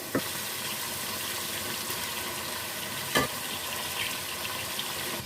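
Boiled chicken liver (kaleji) being stirred and fried in a spice masala, a steady close sizzle with a couple of sharp spoon knocks against the pan, no talking.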